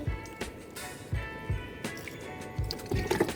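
Water poured onto rooftop plants, giving quiet, irregular splashes and trickles with faint dull thumps throughout, no clear talking.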